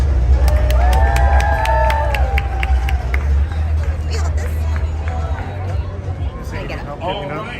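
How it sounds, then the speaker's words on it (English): An audience at the D23 Expo welcomes the Proud Family cast, a loud crowd roar of cheering, clapping and shouts that fills the whole stretch and fades slightly at the end, with voices mixed in. "Big round of applause for our cast."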